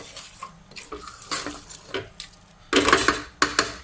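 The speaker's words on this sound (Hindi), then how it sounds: "मिक्स कर देंगे, बहुत ही प्यार से आपने मिक्स करना है इसको, ताकि इसकी जो बोटियां हैं वो टूट ना जाए।" A spoon gently stirs aloo gosht, a meat and potato curry, in a pot, making soft scrapes and wet clanks that build into a louder burst of metallic scraping near the end. The sound is close, with no talking.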